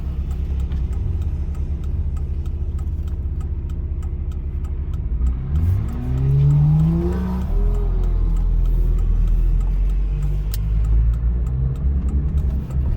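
Cars pass on a busy main road in Cherkasy, heard from a waiting vehicle whose own engine idles with a low steady rumble; a passing car swells and fades midway through.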